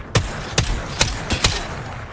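Gunfire in an Apex Legends firefight, heard as four or five sharp, separate shots spaced about half a second apart, moderately loud and without talk.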